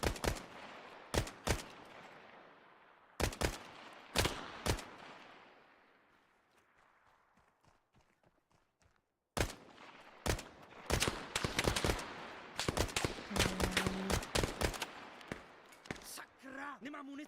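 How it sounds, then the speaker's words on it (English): Gunfire from the video game SOG Antistasi: loud bursts of shots and rapid automatic fire with echoing tails, a quieter lull in the middle, then dense overlapping shooting near the end. "All right, shooting."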